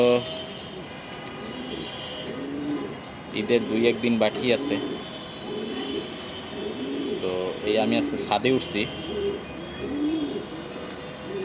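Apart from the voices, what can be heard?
racing pigeon cooing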